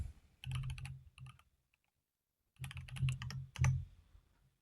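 A computer keyboard clatters through two quick bursts of close typing, separated by a short silent pause, with no voices over it.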